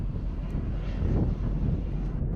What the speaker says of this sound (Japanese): 羽田に着陸するためにですね高度を落としてきてる旅客機がですねまっすぐ向かってきてますね